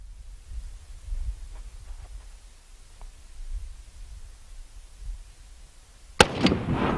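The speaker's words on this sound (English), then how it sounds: "after he shoots these rounds" A single loud gunshot cracks close by after several seconds of quiet outdoor rumble and faint movement, then trails off in a brief echo.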